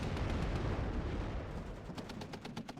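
Smoke mortar fire in the strategy game WARNO: a low, rolling rumble gives way to a quick series of sharp, repeated thumps at moderate distance.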